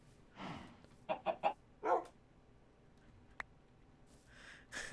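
A chicken squid creature in a crafting video game gives a few short, quick clucks in a small burst, then one more cluck, with soft ambient noise around it and no talking.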